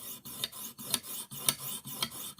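Rough Ryder knife being sharpened on a Lansky guided sharpening system, a close rhythmic rasping as the stone strokes the blade edge, about five even back-and-forth passes with no talk.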